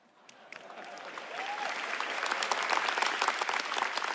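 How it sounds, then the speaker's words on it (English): Audience applause at a Computex 2026 event in Taiwan swells from a few early claps into a dense, sustained wave of clapping from a large crowd, growing louder and filling out toward the end. "And a round of applause for our pre-game show superstars, ladies and gentlemen."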